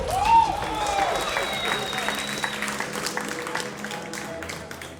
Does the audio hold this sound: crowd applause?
yes